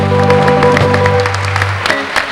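Audience applause at the 1988 Brockton Irish Festival in Massachusetts, a live outdoor-style crowd clapping over sustained band tones that fade out midway.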